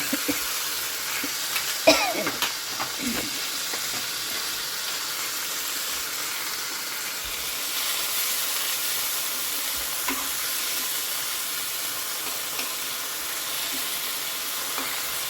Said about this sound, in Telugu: ఇప్పుడు పుదీనా వేసి, ఎక్కువ ఫ్రై కూడా అవసరం లేదు, పుదీనా 1 నిమిషం అట్లా వేయించుకుంటే సరిపోతుంది